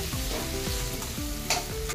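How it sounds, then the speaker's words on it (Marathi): Steady sizzling of a finely ground spice mixture for soya chunk curry in hot oil in a wok, with repeated rhythmic scraping strokes of a spatula stirring the pan, no voices. "ह्याला आता चांगले 2 ते 3 मिनिटं तेलामध्ये परतून घेते"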